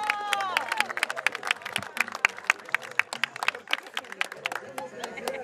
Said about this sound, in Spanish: pedimos un fuerte aplauso de parte de todos ustedes